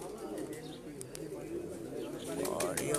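Pigeons coo on a rooftop in soft, low murmuring calls nearby while someone talks over them, with a few sharper chirps toward the end.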